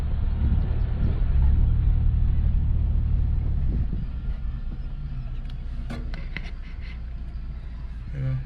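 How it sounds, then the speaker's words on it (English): A 2022 Ford Bronco driving in a tight circle with turn assist engaged gives a steady low engine and road rumble, louder at first and then easing, with faint clicks and knocks near the end. "All I'm doing, turning the wheel and hitting the gas, and it's literally going in a complete circle back to where I started."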